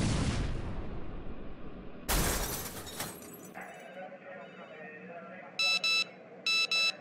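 A phone alert sounds as a few short bursts of electronic beeps near the end, following a loud crash and a crackling burst earlier, set inside an airplane-themed skit.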